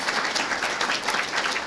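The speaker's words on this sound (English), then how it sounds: "I want you to give them a big round of applause" An audience at an education event for Caldwell County Schools breaks into a steady, dense round of applause, many hands clapping together close by and filling the whole moment without a break.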